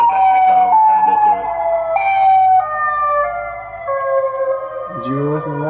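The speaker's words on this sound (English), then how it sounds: "There's the tornado sirens." Tornado warning sirens played from a recording, with a spacious echoing quality: sustained wailing tones that hold and step in pitch across the whole stretch, loud and continuous, with a faint voice briefly underneath near the end.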